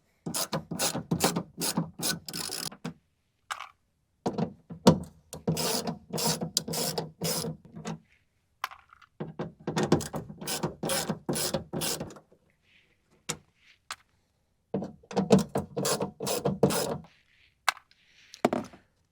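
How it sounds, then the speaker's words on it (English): Ratchet wrench removing four 10mm bolts holding a car speaker in a Runner door, with repeated bursts of rapid clicking separated by short pauses, close and clear. "And then remove the 4 10mm screws or bolts."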